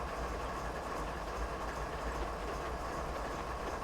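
A freight train rolls along slowly in Train Simulator 2022 on the Marias Pass route, a low, faint, steady rumble with no voices over it.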